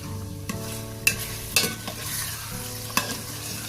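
Chicken sizzles steadily in a pan for Hyderabadi green chicken while a utensil stirs it, scraping with a few sharp clinks against the metal, close up and without talk.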